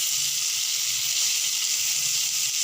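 Shallots and curry leaves sizzle in hot oil with a steady, even hiss that holds unbroken from start to finish, close and fairly loud, with no talking over it.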